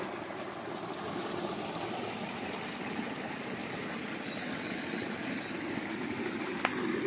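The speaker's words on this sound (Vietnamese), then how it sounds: "Cái suối chảy nè." A forest stream flows steadily through jungle with fallen coconuts drifting in it, a continuous broadband wash of running water, moderately close and even, with a faint click near the end and no talking.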